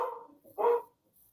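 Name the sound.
dog barking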